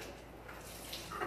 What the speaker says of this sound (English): let me rinse these real quick